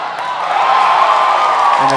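A crowd at a junior women's ultimate frisbee gold-medal final roars after a catch, a loud, sustained wash of cheering and shouts from nearby stands lasting throughout.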